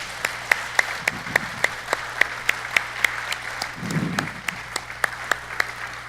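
An audience at a church conference claps in a steady, rhythmic beat. The sharp, evenly spaced claps sit over a low murmur from the crowd.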